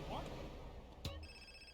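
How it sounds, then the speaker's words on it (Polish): A phone rings briefly in GTA San Andreas, a short electronic trill with steady tonal bursts heard over low game background noise, with a louder click just before it. "Oho, uwaga, telefon."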